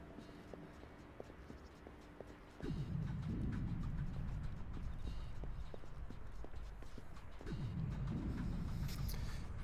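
Footsteps of someone walking around in Tom Clancy's Splinter Cell tap in a steady, fairly faint rhythm over a low hum that swells louder partway through, with no one talking.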